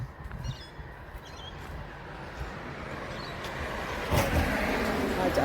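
Steady outdoor traffic rumble of cars going past during a mindful walk, continuous and moderately distant, swelling slightly louder near the end, with faint bird chirps above.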